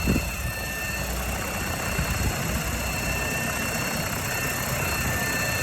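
A homemade helicopter whose rotor head is bent shakes hard on a test flight, giving a loud, continuous, close-up rotor and engine roar with a steady vibrating drone.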